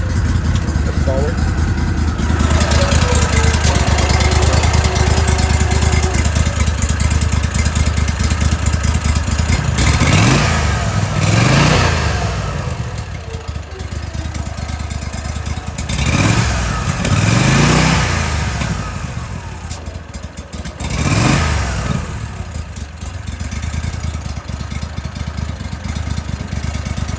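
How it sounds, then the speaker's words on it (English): A Gator Tail model 1760 mud motor revs up in neutral over a steady idle, with several rising-and-falling throttle bursts, loud and close, while people talk nearby. "if you want to just rev up the motor, pushing the button right here"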